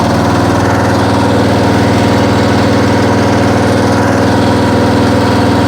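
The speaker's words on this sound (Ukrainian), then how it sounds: "Вижимаю реверс і рухаюсь назад." Diesel walk-behind two-wheel tractor engine running steadily in reverse gear, a loud, close, even chugging drone with a constant low throb and no talk over it.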